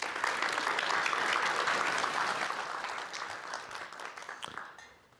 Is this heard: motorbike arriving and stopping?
no